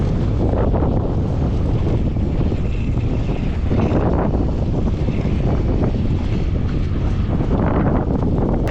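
Steady, loud wind buffeting a microphone outdoors on the water during a fishing trip as bad weather rolls in, a continuous roaring rush with no pauses.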